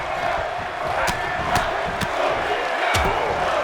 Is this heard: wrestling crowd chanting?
yes